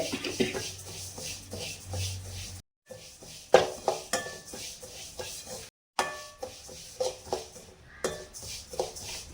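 Sesame seeds and cardamom roast in a pan over a low flame, heard as repeated scraping and rattling strokes of a spoon against the pan with light crackle, fairly close and with no talking.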